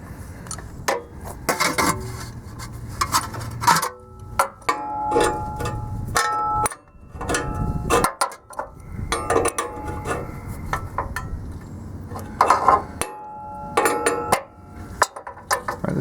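A hand wrench tightens a fitting on a catalytic converter during a car repair, giving close, irregular clicking and ratcheting ticks with metallic knocks and scraping, repeated in short bursts with brief pauses.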